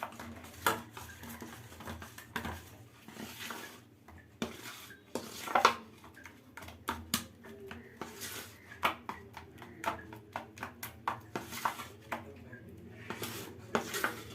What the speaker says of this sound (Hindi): इसको अच्छी तरह से मिला लेंगे ताकि इसमें कोई गुठली न रह जाए